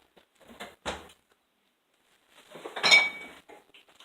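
A heavy casserole dish clunks down onto a surface, followed a moment later by clattering and clinking of cookware nearby.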